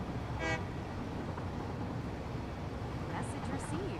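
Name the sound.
vehicle horn honking in video game Satisfactory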